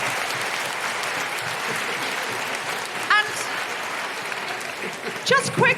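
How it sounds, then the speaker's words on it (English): Live audience at a Wellington, New Zealand comedy show breaks into sustained applause for a performer, even crowd clapping with a few whoops and cheers rising near the end. "Big round of applause for Mark."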